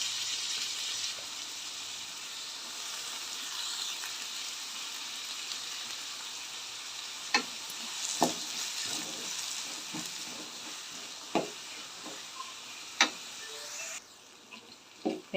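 Two large onions fry in hot oil with fennel seeds for chicken curry, a steady, quiet sizzle with occasional sharp clicks of a spoon stirring the pan.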